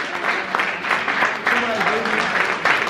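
Crowd of people clapping inside an Apple Store, a steady burst of applause with voices talking over it.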